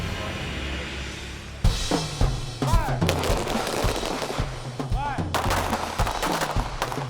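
Gunfire at the Newport News Police Department firing range on Fort Eustis Army Base: loud, sharp shots from several shooters, single cracks and rapid clusters ringing out close and echoing across the range.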